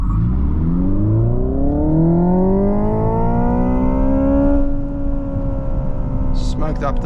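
A Hyundai IONIQ 5 N launches hard with its front wheels spinning, and a loud, rising electric whine climbs steadily in pitch for several seconds before it eases off near the end.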